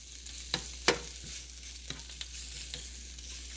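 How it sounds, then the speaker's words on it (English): Food is stirred in a hot pan, a soft continuous sizzle broken by a few sharp scrapes and taps of the utensil against the pan, quiet and close. "Keep stirring."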